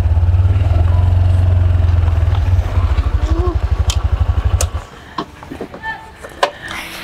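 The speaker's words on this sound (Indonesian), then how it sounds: "aku mau maju ini motor aku" A motorcycle engine idles loudly and close in a steady low throb, then pulses as it pulls away and fades around the middle, leaving quieter street sounds and a few clicks; a voice speaks over it.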